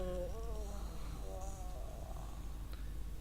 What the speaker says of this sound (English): That's a pretty weird yawn.